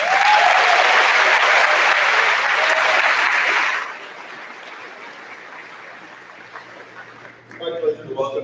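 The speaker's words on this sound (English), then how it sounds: "Let's give a round of applause to our senior class salutatorian, Jacob Lane." Loud applause from the audience at a 2021 high school graduation ceremony, filling the hall for nearly four seconds before dropping to a quiet room hum, with a voice starting to speak near the end.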